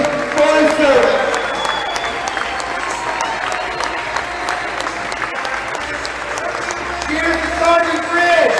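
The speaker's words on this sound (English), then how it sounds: "let's give Sergeant Frisch a big round of applause to show our appreciation for his service" Arena crowd at a Wichita Wings indoor soccer game applauds an honored sergeant, sustained loud clapping with some cheering that swells near the end.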